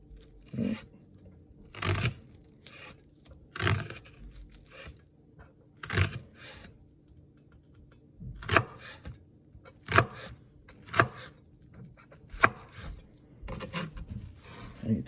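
Repeated knife strokes on a cutting board as an ingredient for falafel is sliced across the grain into small dice, with sharp chopping taps in an uneven rhythm, closer together toward the end, up close and alone.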